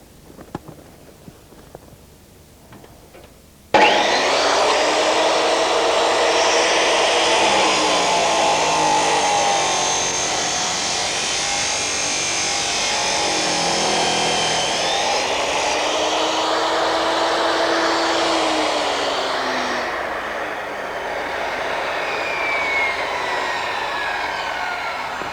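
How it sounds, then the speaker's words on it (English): A circular saw mounted in a Triton Work Centre cuts at full blade depth. After quiet handling, the motor starts abruptly into a loud, sustained whine whose pitch dips and recovers under load, then settles toward the end. "you can have the saw disc at full depth and just cut through as if you're cutting through a piece of wood"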